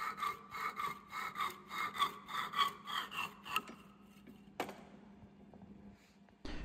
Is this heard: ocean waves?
no